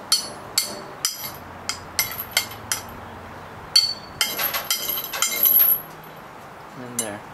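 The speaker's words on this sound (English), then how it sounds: "so I'm just going to hammer it on" Metal hammer strikes drive a shackle on, ringing out in an uneven series, a dozen or so sharp clanks close by, some quick and bunched, with a brief scrape near the end.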